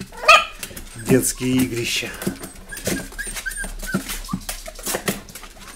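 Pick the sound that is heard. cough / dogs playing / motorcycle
dogs playing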